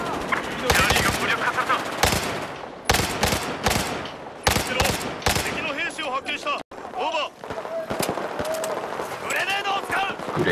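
Rapid bursts of automatic gunfire in the shooter game Battlefield 4, loud and repeated in clusters with short gaps, while a player talks between and over the shots.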